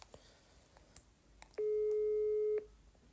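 A single steady telephone busy tone sounds for about a second while a call is redialed, preceded and followed by faint clicks and quiet room noise, with no voices.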